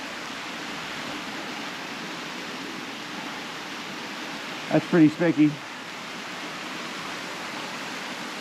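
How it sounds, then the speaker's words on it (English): A waterfall heard from behind its falling curtain at a campsite in the Victorian High Country near Craigs Hut, a steady broadband rush of water throughout, briefly interrupted by a short spoken remark near the middle. "I love these ones where you get behind the waterfalls"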